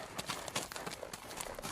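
Horse hooves clip-clop in a steady, quick rhythm as a saddled horse sets off at speed down a trail, the hoofbeats close and fairly loud with no talking.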